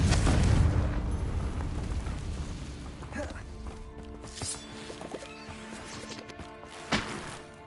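A Confringo fire spell explosion in Hogwarts Legacy bursts with a heavy low boom at the start, then rumbling debris and scattered crackling impacts fade out, with a sharp pop near the end.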